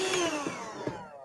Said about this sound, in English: that was my vacuum cleaner